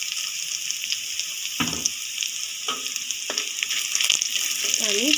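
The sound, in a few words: bay leaves and whole garam masala tempering in hot oil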